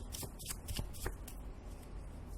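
Tarot cards are shuffled close by in a quick riffling flurry of soft snaps and slides, lasting a couple of seconds at low volume.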